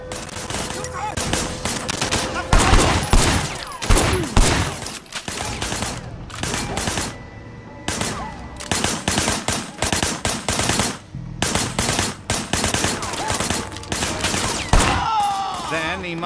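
Gunfire in the video game Sleeping Dogs Definitive Edition: repeated loud bursts of rapid automatic fire in a choppy rhythm, broken by brief pauses, with voices now and then underneath.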